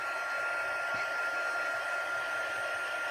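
A heat tool drying stamped paper blows a steady, loud whooshing hiss without a break, like a hair dryer held close, with no talking.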